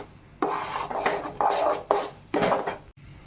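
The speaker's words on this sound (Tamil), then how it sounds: "இப்போ எல்லாம் ஒன்றா சேர்த்து நல்லா கிண்டி விட்டுக்கலாம்" Spoon scraping through a cardamom, coconut and dal filling in a pan for paruppu poli, with five or six rhythmic raspy strokes, close and fairly loud, separated by brief pauses.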